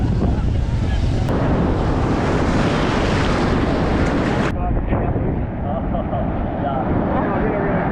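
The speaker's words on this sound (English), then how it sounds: "Now we're just at Champagne Pools, which is just around the corner from Indian Head." Ocean surf and gusting wind buffet the microphone at Champagne Pools, a saltwater swimming spot near Indian Head on K'Gari (Fraser Island), a steady loud roar of waves that thins a little partway through.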